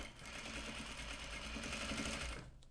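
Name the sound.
sewing machine stitching fabric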